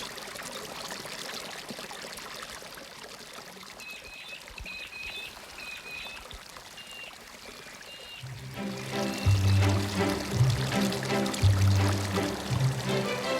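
Flood front of water creeping across the desert toward Lake Eyre, a soft continuous trickling and gurgling flow with brief bird chirps midway before the water sound swells louder and fuller near the end.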